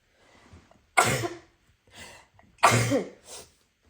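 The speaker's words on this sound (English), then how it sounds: "And I'm going to sneeze." Two sharp, close sneezes about a second and a half apart, each followed by a softer breathy exhale.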